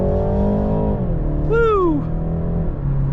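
A 2021 BMW 330i xDrive in sport mode accelerates hard, its engine a steady loud drone throughout, while a voice whoops briefly in the middle.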